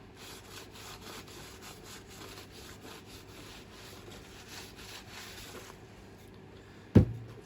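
Steady close scrubbing and rubbing on a Lotus Elan differential to clear off grease, a continuous soft rasping texture ending with a single sharp knock.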